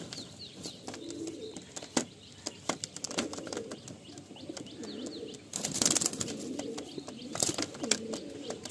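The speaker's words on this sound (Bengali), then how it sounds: "অনেক ভাই কালাঙ্কা পায়রার জন্য সন্ধান করো, তো এই পায়রাটা দেখতে পারো" Kalanka pigeons for sale coo softly in a cage, with scattered wing flaps and rustling, a person talks quietly under it.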